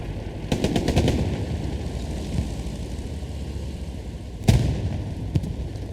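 A tank shelling infantry in the Hell Let Loose video game, with a rapid burst of gunfire early, a deep rumbling background and a sharp heavy blast near the end.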